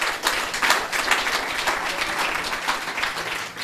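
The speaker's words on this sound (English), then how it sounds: "give him a round of applause" Audience at a small-business strategy workshop in Bochabelo, Free State, breaking into steady applause, a dense wash of hand claps that holds at even strength for several seconds with no talk over it.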